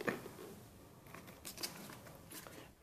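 Plastic cappuccino-flavoured yogurt cup being opened up close, with faint crinkling, peeling and tapping that come in a few soft bursts over about three seconds, no voices.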